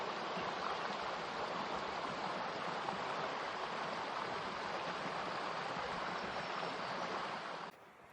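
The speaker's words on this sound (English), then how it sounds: "here's that creek we've been walking along" A creek rushes steadily along a hiking trail, a dense, continuous broadband wash of flowing water heard up close at even loudness, cutting off abruptly near the end.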